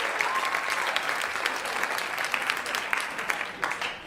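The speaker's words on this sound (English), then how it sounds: "Yeah, sure. You can clap." Audience at a stand-up comedy show breaks into dense, steady clapping that fills the room at close range, with faint cheers mixed in, and no talking over it.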